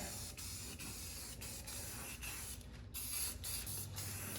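A spray can hisses steadily as paint goes onto the wheel of an abandoned VW rail buggy, with brief pauses between passes and a few short bursts, loud and close.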